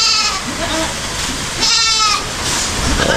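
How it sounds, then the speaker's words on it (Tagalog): A goat bleating loudly and close up in a backyard, with two or three wavering, nasal cries separated by short pauses and a voice talking between them. "Ay, kambing"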